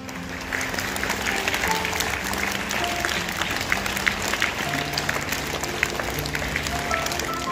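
Students clapping steadily for prize winners at a school morning assembly, a dense, continuous applause from a large group filling the whole stretch at even loudness.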